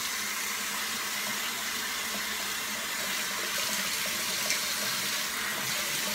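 Water running steadily from a faucet into a sink to rinse off shaving cream, a constant close hiss and splash with no talking.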